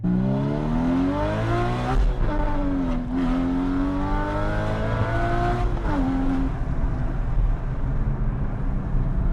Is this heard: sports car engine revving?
yes